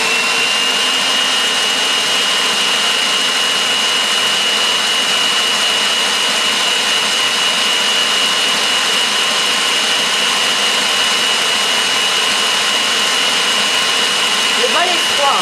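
An electric mixer whips cream in a chilled bowl at near-maximum speed, giving a loud, steady high-pitched whine that holds evenly throughout without pause.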